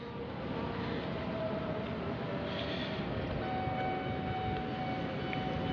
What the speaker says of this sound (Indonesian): ada suara kereta ini. Maksudnya suara palang pintu kereta gitulah, ada kereta lewat.